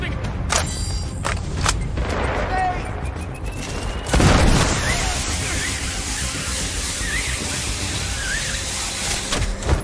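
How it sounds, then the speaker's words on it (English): Gunfire in the shooter game Sniper Ghost Warrior Contracts 2, with a steady crackle of shots and a louder boom about four seconds in, set against constant battle noise. "Someone's shooting!"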